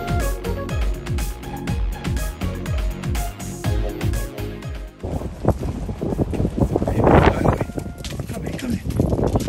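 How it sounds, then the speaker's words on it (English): Wind gusting hard outdoors on a college campus, buffeting the microphone with loud rumbling roar through the second half, following a stretch of music at the start. "It's pretty windy out there."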